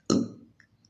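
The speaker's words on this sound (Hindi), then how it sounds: "रियल हिचकी।" A single real hiccup from a woman with morning hiccups, one sharp, close jolt that dies away quickly, followed by a faint second catch.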